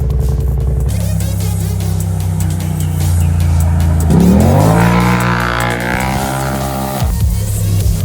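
A Polaris RZR side-by-side with hardwired performance upgrades drives fast, its engine droning loudly, then revving hard through rising pitch sweeps before dropping back and climbing again, with faint tire noise.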